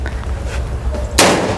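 A single loud .44 Magnum shot from a Smith & Wesson M629 revolver fires close by near the end, a sharp blast after a stretch of low background rumble.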